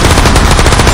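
Rapid, loud automatic gunfire bursts fill the moment, a continuous rattling volley of shots in the video game Minecraft during an alien invasion battle.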